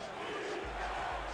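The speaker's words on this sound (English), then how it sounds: "And the crowd has not left the stadium yet. They are still here cheering on their Pride" Stadium crowd cheering at a Tallahassee Pride football wildcard game, a steady broad roar of many voices with low rumbling bursts, loud and continuous throughout.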